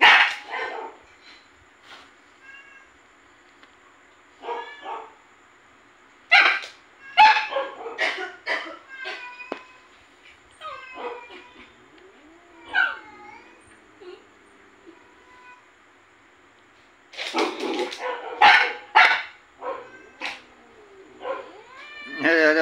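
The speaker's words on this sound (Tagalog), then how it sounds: "tatahol-tahol lang siya oh" A small dog barking in short bursts at something it wants to play with but is afraid to approach, sharp yaps clustered in several groups with quiet gaps between them, fairly close, with a person talking in between.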